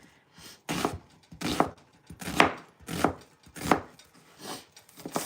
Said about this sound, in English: So I'm gonna go ahead and finish cutting the other half.